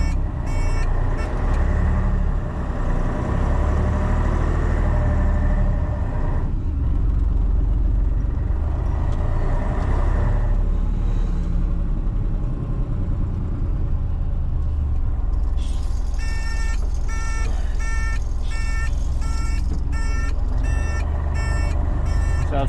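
A Mercedes-Benz 1222AF overland truck drives with a steady, loud low engine rumble throughout. From about two-thirds of the way in, a regular series of beep-like tones rises over the drone.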